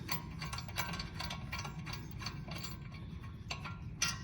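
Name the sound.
loosening a brake bolt on a Hyundai Elantra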